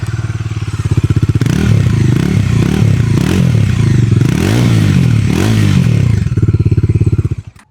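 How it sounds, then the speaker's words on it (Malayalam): A 2026 Bajaj NS 400Z or Dominar 400 motorcycle exhaust runs loud and close, with repeated throttle blips swelling and falling over a steady idle before it settles back. "പിന്നെ നോക്കുകയാണെങ്കിൽ എക്സോസ്റ്റ് ട്യൂണിൽ ചെറിയൊരു മാറ്റമുണ്ട്"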